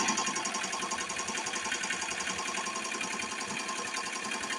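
A Tajima Sai 8-needle embroidery machine stitches out a blanket design with a fast, steady mechanical chatter and rapid needle rhythm. It runs close and continuous with no voices.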